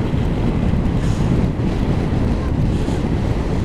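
Steady, loud wind roar buffeting the microphone while riding a motorcycle on a road in Switzerland, continuous and unbroken throughout.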